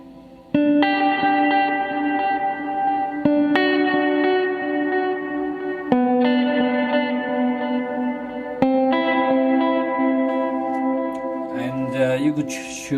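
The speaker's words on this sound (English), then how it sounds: "So besides this, you could add the delay." A sustained synthesizer-like tone passed through delay and reverb effects on a Cerberus unit, changing pitch every few seconds in long held notes that blur and echo into each other, with a swirling tail at the end.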